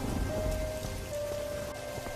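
Heavy rain pours down in a dense, constant hiss and patter on surfaces, loud and unbroken for the whole moment, with a faint steady tone running beneath it.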